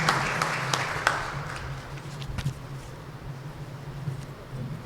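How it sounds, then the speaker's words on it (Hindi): Applause from an audience at a women's self-reliance event in India, clapping strongest at the start then thinning into sparse claps over a steady low hum and room noise. "एक बार इनके लिए फिर से जोरदार तालियां होगी।"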